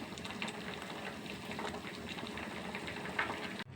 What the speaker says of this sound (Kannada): ಇವಾಗ ಬೇಳೆ ಬೇಯ್ತಾ ಇದೆ.